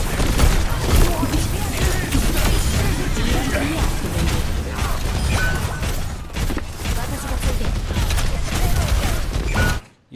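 Rapid gunfire from Torbjorn in the video game Overwatch, a dense, loud stream of shots and mechanical clatter running nearly continuously before cutting off abruptly, with a player's voice talking over it.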